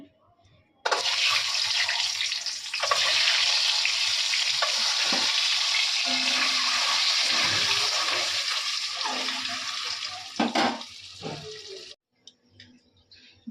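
A loud burst of hot oil seasoned with salt and turmeric sizzling starts suddenly and hisses continuously for about eleven seconds, then cuts off, leaving a few quiet clinks.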